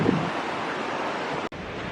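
Ocean surf and gusting wind roar together below high, eroded sea cliffs on the Tasmanian coast, a broad, continuous wash heard alone with heavy wind buffeting the microphone and one brief dropout near the end.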